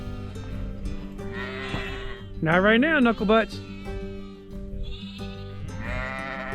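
Sheep bleat in a corral at band-and-dock time, one loud, wavering bleat rising near the middle over a steady background of flock noise, with someone speaking briefly before and after.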